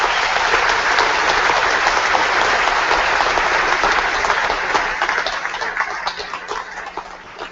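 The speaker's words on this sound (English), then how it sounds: "give them a thunderous round of applause for what they do" A convocation audience gives a loud, sustained round of applause, a thick wash of many clapping hands that thins out and fades toward the end, with no talk over it.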